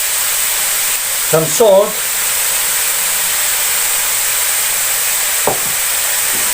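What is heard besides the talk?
minced pork and chopped onion roasting in a pan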